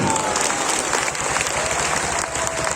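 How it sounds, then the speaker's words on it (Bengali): Audience applause at a Gita Jayanti festival gathering in Mayapur, a dense, loud burst of clapping from a crowd sustained evenly for a few seconds. "ছোটা হাততালি"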